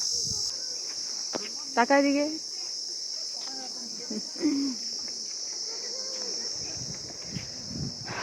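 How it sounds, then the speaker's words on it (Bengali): Crickets on Henry Island near Bakkhali keep up a constant shrill, high drone all around, steady and loud under brief talk, footsteps and a few faint bird calls. "চতুর্দিকে এটা কেমন ঝিঝি পোকার ডাক"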